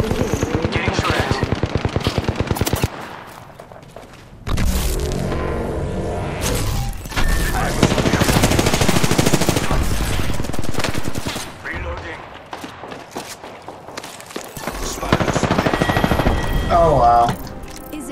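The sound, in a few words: gunfire in Apex Legends video game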